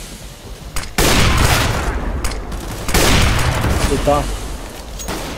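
Loud gunfire in CS:GO on the Aztec map in a competitive match: sharp bursts and rapid volleys of shots, close and booming, with players talking over the fire.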